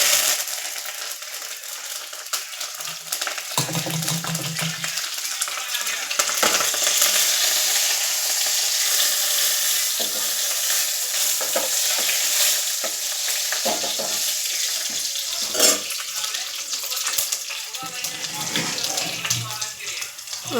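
Garlic and curry leaves frying in hot oil for vegetable sambar: a steady, loud hiss and sizzle runs throughout, with occasional stirring clatter.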